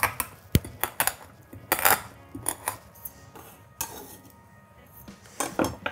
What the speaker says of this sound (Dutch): Dan pak je even een klein pannetje.